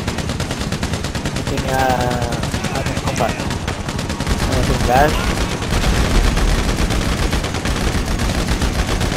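Bursts of automatic gunfire from a GTA Online multiplayer match, loud rapid volleys that keep coming while a player talks over them.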